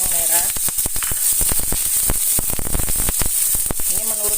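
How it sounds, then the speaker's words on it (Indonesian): Shallots hit hot oil in a pan for a simple sawi greens dish, giving a steady close sizzle with sharp crackling pops throughout, while a voice talks briefly at the start and end. "Minyak yang sudah panas, masukkan bawang merah."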